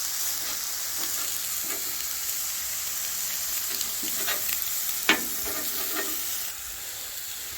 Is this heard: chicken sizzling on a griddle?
yes